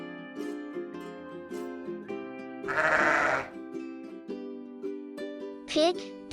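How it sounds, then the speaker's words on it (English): A sheep bleats twice: a long, wavering bleat in the middle and a shorter, higher one near the end, both over light background music. "Sheep, lamb, sheep, young one is lamb."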